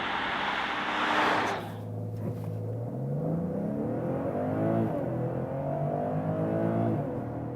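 A 2021 BMW 5 Series, 540i or M550i xDrive, launching hard under launch control to 100 km/h, its engine note climbing steadily through the gears after a loud initial rush, heard close from inside the cabin.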